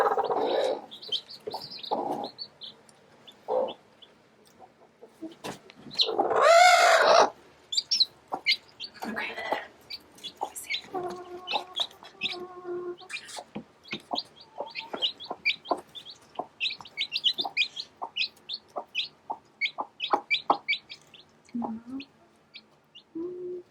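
A broody black hen clucking with newly placed chicks beneath her, low soft clucks and brief gargling calls alongside rapid high chick peeps, close and fairly quiet.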